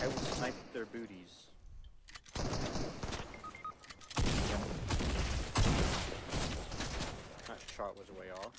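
Sniper rifle shots in Fortnite, sharp loud reports and bursts of gunfire mixed with game effects while players talk over them.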